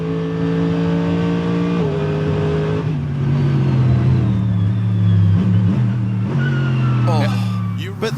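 Audi R8 racing cars scream past at high speed on a circuit, loud sustained engine tones shifting pitch as they approach and pass, with a commentator talking over them.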